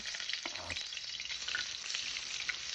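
Sliced ginger sizzles as it is sautéed in a hot pan, a continuous bright frying hiss with a brief stirring scrape near the start.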